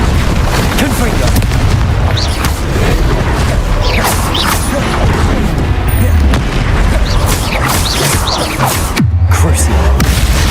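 Explosive spell blasts in the Hogwarts Legacy video game, with heavy booms and crashing rumbles layered over continuous dense combat noise and voices, loud and close throughout.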